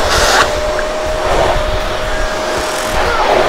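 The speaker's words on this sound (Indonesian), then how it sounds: "Sip, yuk kita vakum deh." A Panasonic MC-CG524 canister vacuum cleaner runs steadily on a floor, a loud continuous whooshing motor roar with a faint whine, heard close and with no talking.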